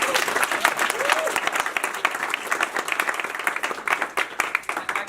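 Audience at a pitch competition applauding entrepreneurs, a dense sustained round of clapping from a sizable crowd that stays loud throughout, close and continuous.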